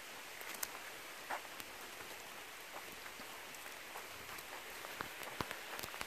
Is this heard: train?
no